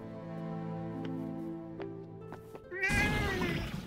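A cat in the video game Forspoken gives a loud, drawn-out meow near the end, after a stretch of soft game music with light tonal chimes.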